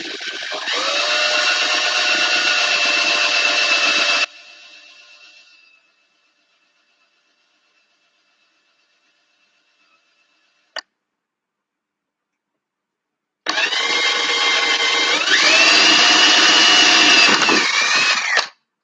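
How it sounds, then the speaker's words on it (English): A power drill bores a hole while work goes on on a mud mower, with two close, loud whining bursts of several seconds each separated by silence and a single sharp click, the motor pitch shifting as it loads. "now I drilled the hole"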